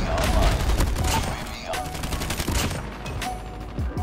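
Rapid bursts of gunfire from the video game COD Mobile in a 10v10 match, a dense loud fusillade of repeated shots running throughout with no talk.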